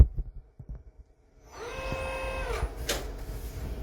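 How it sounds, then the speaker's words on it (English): The spindle of an Emmegi Phantomatic T3A aluminum profile machining center, a 2022 machine, spins up after a few soft clicks. A rising whine settles into a steady tonal hum under a broad mechanical hiss. "spindle rotation."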